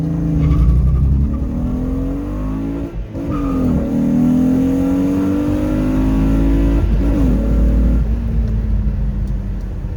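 A 1998 Polonez fitted with a 3.0 V6 engine runs close by, the engine note rising and falling through repeated revs with a brief dip, loud and continuous, with no talking.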